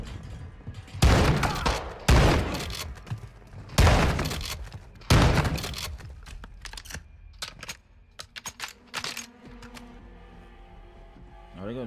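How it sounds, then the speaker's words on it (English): Grenades exploding in the Modern Warfare II campaign, four heavy booming bursts each trailing off, followed by scattered smaller clatter and a voice talking over the game. "Oh, they throwing grenades now."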